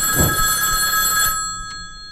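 A telephone rings inside a horror house video game, a loud continuous electronic bell that cuts off abruptly after about a second and a half, leaving faint background ambience.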